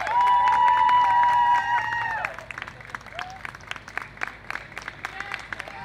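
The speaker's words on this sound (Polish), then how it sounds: "Gromkie brawa" Audience applause breaks out after a live song, scattered claps rising as the music's final sustained tones fade, then continuing lighter and uneven.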